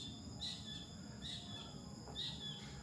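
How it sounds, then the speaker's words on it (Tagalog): Three short, high chirping bird calls repeat at roughly even intervals over a steady low outdoor hum, heard from a balcony in Antipolo City. "Hindi ko alam kung naririnig niyo yung huni ng ibon."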